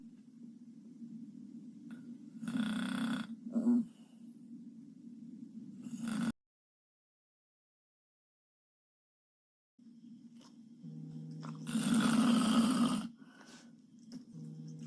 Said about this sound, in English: she's snoring like she has a cold.